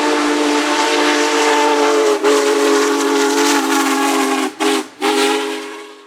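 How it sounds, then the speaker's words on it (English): A loud, sustained whistle from the world's largest steam locomotive blows close by, breathy and chord-like with a hiss, briefly breaking off twice near the end. "The world's largest steam locomotive"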